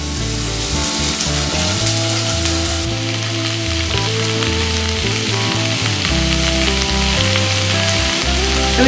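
Loud, steady sizzling of pre-boiled potato, green peas and carrot frying in a pan, with occasional stirring, continuous throughout and with no talk over it.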